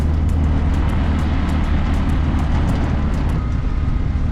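A tuk-tuk drives along the runway at Battambang Airport in Cambodia, its steady engine drone and road rumble loud and close throughout, with faint rhythmic ticking above and no talking.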